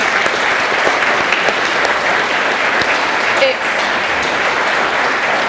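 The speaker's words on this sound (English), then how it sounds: "So just a round of applause for the organisers." Loud, steady crowd applause at an outdoor anti-NATO, anti-war rally, continuous dense clapping with occasional cheers throughout.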